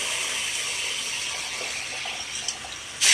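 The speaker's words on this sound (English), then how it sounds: "are you ready for your hour-long bath?" Water runs steadily from a tap or hose while a Komondor dog is bathed at a groomer, a constant close hiss with a louder gush surging at the end.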